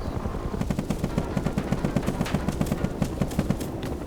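Rapid bursts of video game helicopter machine-gun fire rattle in a steady rhythm over a low rotor drone, loud and continuous, with no talking.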